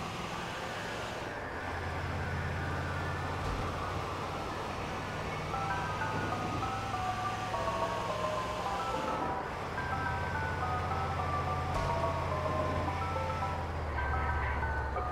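The Mr. Tasty ice cream truck in GTA 4 plays its tinkly jingle melody continuously, with a steady engine hum and road noise underneath.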